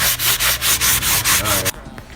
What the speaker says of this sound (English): I'm just wiping off the walls, any extra dust, debris, cobwebs, getting that all off.